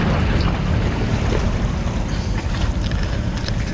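Sea waves washing over the rocks along the shore at Oyster Rocks near China Port in Karachi, a steady loud roar of surf and wind with no let-up and no voices.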